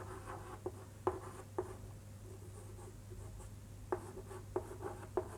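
Chalk or marker writing on a board during a maths lesson, faint soft taps and short strokes scattered irregularly over a steady low hum, with no talk.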